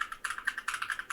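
Quick, light keystrokes on a computer keyboard tap out in a short, uneven burst of clicks, faint and close, with no talk.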